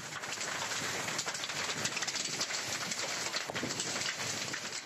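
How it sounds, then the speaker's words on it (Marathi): Hailstones pelt farm fields of onion, chili and maize in Jalna district, a dense, steady roar of hard impacts that runs without pause throughout. "जालना जिल्ह्यात रविवारी ही अशी गारपीट झाली."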